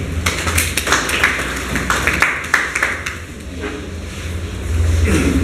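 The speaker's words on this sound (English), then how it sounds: "I think they deserve a clap" A seated audience at a climate change and human rights gathering in Uganda claps in a scattered, irregular patter that builds and then fades, fairly near, ending in a low murmur.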